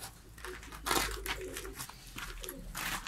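Diyarbekir white pigeons coo in a loft, soft repeated throaty calls rising and falling over steady low hum, fairly close and moderately loud.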